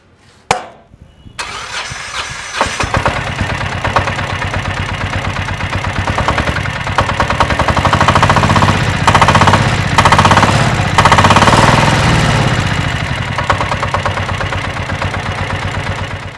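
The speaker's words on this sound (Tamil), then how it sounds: "வண்டியோட சவுண்ட் எப்படி இருக்குது அப்படின்றத கேளுங்க இந்த இடத்துல மைக் வந்து வைக்கிறேன்" A single-cylinder engine of an ALFA Plus cargo auto rickshaw cranks and fires, then runs steadily with a loud, close, throbbing diesel-like chug and a constant vibrating rattle, with no talk.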